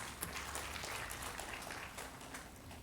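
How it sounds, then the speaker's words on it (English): Distant, faint applause from a large audience, a continuous patter of many hands clapping without a break. "A large applause for that, please."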